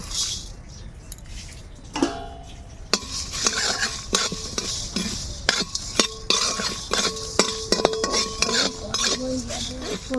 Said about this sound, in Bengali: গোটা ধনে গোটা জিরে দারচিনি এলাচ শুকনো লঙ্কা এবার শুকনো খোলায় ভেজে নেব